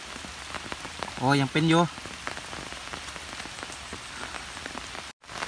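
Steady morning rain falls after an all-night downpour over flooded water where fishing lines were set, a constant hiss throughout with a short burst of talk near the start.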